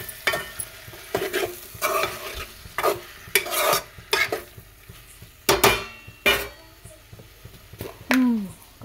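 Tomatoes cooking in a pan for a curry, heard as close scraping and stirring strokes against the pan with clinks of a utensil and a faint sizzle beneath, in irregular bursts; no speech.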